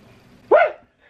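A single short, loud dog bark sounds close by indoors, then quiet follows.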